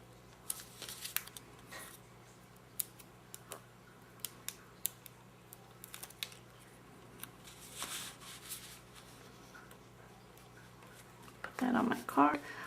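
Scissors trim a scrap of paper for card making, a few quiet, sharp snips spread through the clip, then a louder rustle of paper handling near the end.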